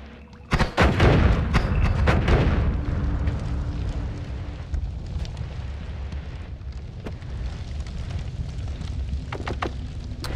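A bomb in the video game Noita goes off with a sudden loud booming blast near the start. A long rumbling, crackling roar follows and slowly fades, with scattered debris crackles through the tail.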